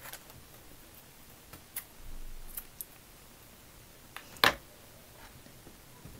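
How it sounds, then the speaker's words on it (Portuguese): Scissors cut crochet yarn close by, with a few faint scattered clicks and rustles followed by one sharp, distinct snip. "Cortei aqui o fio"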